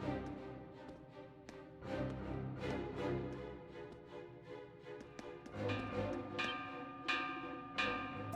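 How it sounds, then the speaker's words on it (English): In the Ys IX video game, a warning bell rings out in repeated metallic strikes over a layered musical background, moderately loud with a steady rhythm. "It's the warning bell."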